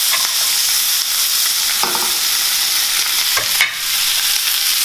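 Butter melts and sizzles in a pan before steaks go in, a loud, steady, close crackling hiss with a few soft clinks of stirring and no talking.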